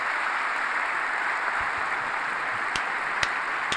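Audience at the State of the Union applauding from their seats and on their feet, a continuous dense wash of clapping from a large crowd, steady throughout with a few sharper individual claps.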